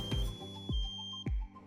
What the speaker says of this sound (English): Leave the control module motionless for 20 seconds and listen for the pass pre-alarm.